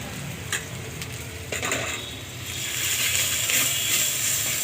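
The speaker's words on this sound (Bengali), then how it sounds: "দিয়ে আমি নেড়ে নিব ভালোভাবে" Salt, turmeric, chili powder and cumin-coriander being stirred in a cooking pot for chicken kosha, with scraping spoon strokes over a continuous sizzle that grows louder midway, no voices.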